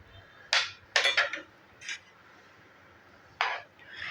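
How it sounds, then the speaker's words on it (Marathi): A spoon stirs a milk powder mixture for mango ice cream in a metal pot: five or six sharp, close scraping clinks in an uneven rhythm, with quiet gaps between them. "हे आपण सर्व आता इथे ढवळून घेऊया"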